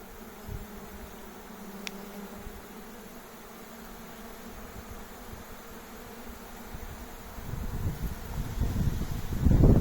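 A swarm of honey bees settling into a hive gives a faint, continuous outdoor buzz, joined by rustling and wind that grow louder and closer toward the end.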